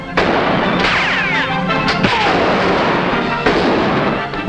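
Gunshots ring out in a western film, sharp cracks and booms over a dense, loud soundtrack, with two distinct reports standing out among continuous noise.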